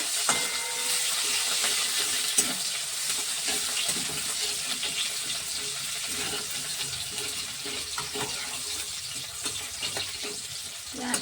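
Onions fry in hot oil in a pan, a dense continuous hiss and sizzle that stays loud and close for the whole stretch, with occasional faint stirring scrapes.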